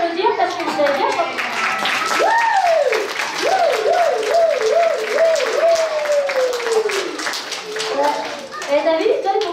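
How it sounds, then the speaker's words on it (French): Young children in the audience of a ventriloquist-magician show clap for themselves after singing, with loud, quick applause mixed with high, wavering cheers and shouted children's voices close by. "Alors vous pouvez tous vous applaudir parce que vous avez bien chanté."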